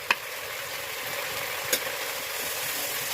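Ground spices frying with salt and turmeric in a pan, a soft continuous sizzle with a couple of faint utensil taps, fairly quiet and without speech.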